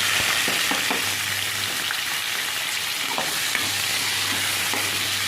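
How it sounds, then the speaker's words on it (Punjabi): Onions and cumin sizzle steadily in desi ghee in a pan for Maggi noodles, a dense, close frying hiss with occasional light stirring clicks throughout. "ਜੀਰਾ ਪਾਵਾਂਗੇ ਫਿਰ ਆਪਾਂ ਇਹਦੇ ਵਿੱਚ ਪਿਆਜ਼ ਪਾਵਾਂਗੇ ਜੀ"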